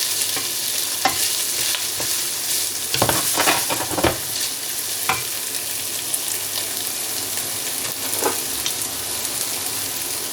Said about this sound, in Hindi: ये भी प्याज के साथ इसको भूनेंगे। थोड़ी सी ये कौड़ी होती है चिली जो है ना, ये बहुत कौड़ी है, इसलिए थोड़ा सा मैं इसको भूनूँगी।